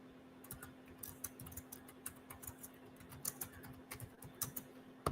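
Quick, irregular clicks of a computer keyboard being typed on, close and fairly quiet, with a steady low hum underneath and no talking.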